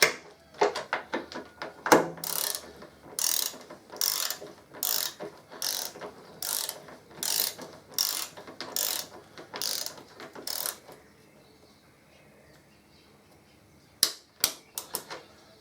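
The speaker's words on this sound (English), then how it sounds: "And the only reason I used the socket to tighten them up" Ratcheting socket wrench tightening the 1/2 inch Torx 40 tank bolts on a 2014 Harley-Davidson Electra Glide, a run of about a dozen crisp, evenly spaced clicks close up, then a pause and a few last clicks.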